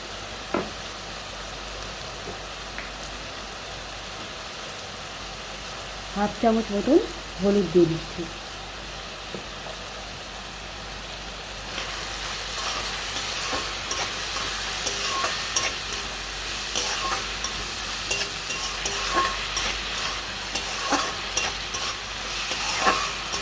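Water lily stems fry in a pan, with a soft sizzle at first, a few scraping stirs around the middle, then a louder, denser crackle and steady stirring toward the end.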